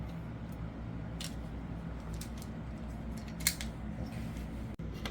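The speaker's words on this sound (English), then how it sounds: "So we just ratchet down. And it makes a pretty good clean cut." A ratchet-style cutter trims plastic cable-hiding raceway, giving a few short, sharp snipping clicks close up over a steady low hum of room noise, with one brief louder snap near the end.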